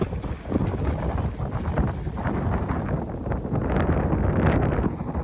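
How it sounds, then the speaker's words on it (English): Strong wind buffets the microphone in continuous gusty roars, loud and close, with rushing noise swelling and easing throughout, on a seaside promenade in Kuwait. "So today is quite windy, as you can tell."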